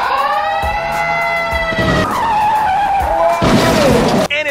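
A radio-controlled car drives and skids across a half-frozen pond, its small electric motor whining in rising and falling pitches as it slides on the ice, loud and close throughout.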